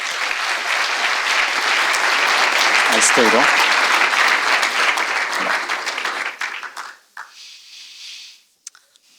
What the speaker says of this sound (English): if we could ask you all to give an applause to the team